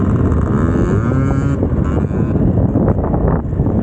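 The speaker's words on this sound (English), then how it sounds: "Love the sound of the two-stroke." A two-stroke off-road motorcycle engine buzzes and revs nearby on an OHV trail, loud and continuous under heavy wind rush against the microphone, its pitch rising and then wavering.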